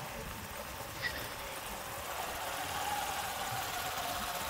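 A motorbike engine idles steadily at close range, a continuous low rumble with a faint knocking texture running unbroken beneath the scene, no speech over it.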